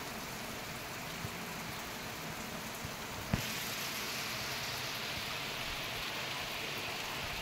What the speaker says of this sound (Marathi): छान असा पाऊस चालू झालेला आहे सकाळी सकाळी,